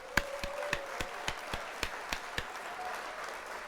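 A quiet applause sound effect on a livestream gives about ten sharp, evenly spaced claps over a soft background hiss, with no talk.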